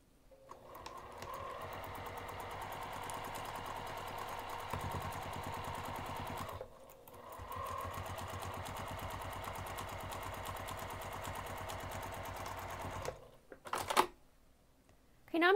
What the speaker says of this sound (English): I'm going to sew using a half inch seam allowance from the top edge down to the line that I drew.